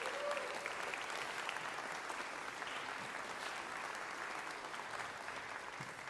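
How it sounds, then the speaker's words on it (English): An audience applauds after a trombone ensemble performance, steady sustained clapping from a crowd in a concert hall, fairly soft and even for several seconds. "So please give them a round of applause."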